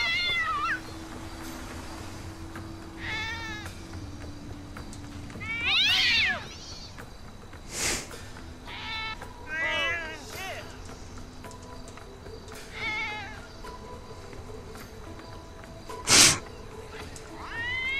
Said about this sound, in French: Est-ce que c'est la fameuse histoire des 9 vies des chats?